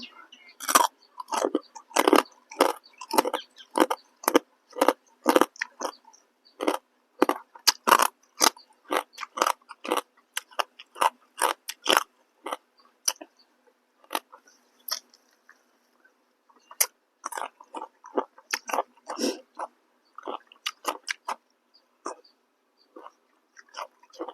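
Close, loud crunchy chewing of crisp lotus-stem salad with rice-field crab, with rapid bursts of bites and munches that pause briefly before continuing.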